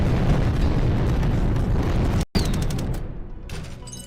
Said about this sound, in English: the super missiles just wreck these early bosses